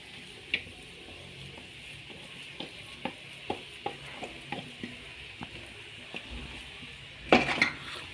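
Potatoes are stirred into a frying pan with garam masala for a samosa roll filling: a faint low sizzle under a run of light, irregular spoon taps against the pan, ending in a brief louder clatter.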